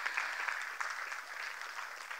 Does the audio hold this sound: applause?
yes